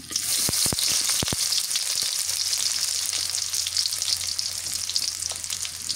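Onions frying in a pan with fish roe and potatoes: a loud, steady hiss of sizzling oil runs close up throughout, with a few sharp crackles and pops near the start.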